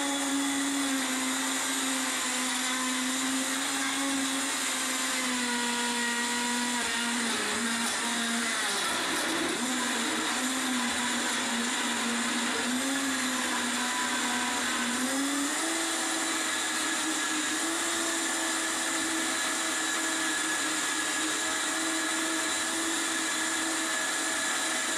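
A countertop blender running on high while blending apple roars with a loud, steady motor whine, the pitch dipping and wavering as the chunks catch on the blades, then settling back into a constant drone, no voices.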